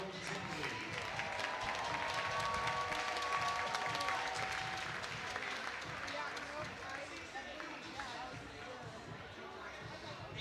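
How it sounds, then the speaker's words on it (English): A crowd at a college softball game between Oklahoma and Sam Houston keeps up a steady, dense wash of clapping and cheering from the stands, with an announcer's amplified voice over it. "Keep that round of applause going."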